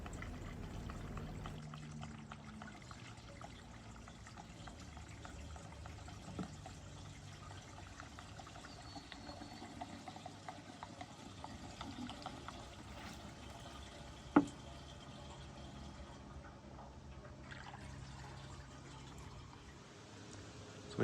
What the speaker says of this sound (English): So we drained all the coolant